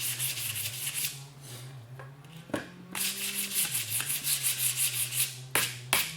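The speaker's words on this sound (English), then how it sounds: "Got our sanding pad. We're just going to knock it down like that." Steady rubbing and scraping of a sanding pad over wood, continuous strokes with a few sharp knocks and brief pauses, close by.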